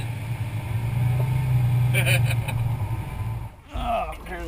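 A Lamborghini Aventador V12 rumbles and revs up to high RPM, loud and close, then drops off sharply before another burst near the end.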